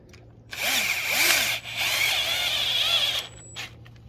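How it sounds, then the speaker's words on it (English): Power drill driving a screw into a bash guard during installation of a SUR-RON electric power pedal kit, one steady whirring burst of about three seconds with a short pitch dip in the middle and a brief tap after. "Then I take the screw with my power tool."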